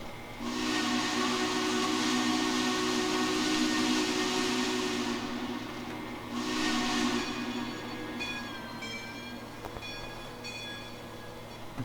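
A steam locomotive whistle from the Trainz Simulator game, modelling a Union Pacific FEF 4-8-4, sounds two long chime blasts with a hissing edge, followed by fainter ringing tones, with no talk.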